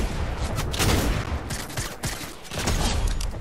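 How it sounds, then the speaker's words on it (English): Gunfire in the battle royale game Fortnite, a dense, continuous fusillade of rapid shots filling the clip at close range with no talk over it. "Who's shooting at us?"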